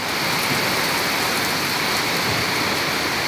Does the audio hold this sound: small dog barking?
no